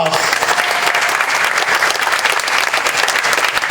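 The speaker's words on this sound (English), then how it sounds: "Another round of applause" Audience at a Hmong festival bursts into sustained applause, a dense, steady wash of many hands clapping close and loud with no pauses, crowd noise blended underneath.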